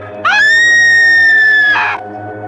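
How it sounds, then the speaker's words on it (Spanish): A single bloodcurdling scream, a long shrill sustained cry that rises, holds for about a second and a half, then breaks off sharply in a creepypasta horror narration set in a house. "En eso un grito se escucha"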